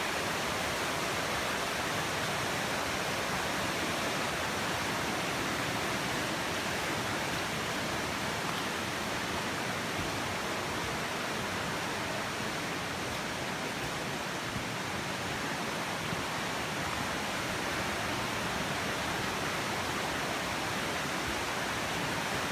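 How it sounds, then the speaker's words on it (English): Loud, steady rush of a stream cascade tumbling over rocks along the Appalachian Trail, a continuous broadband roar up close with no pauses throughout. "Hope you can hear me over the rush of the water."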